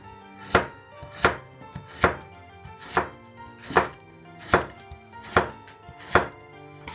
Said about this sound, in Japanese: 薄切りにしてから細かく切っていきましょう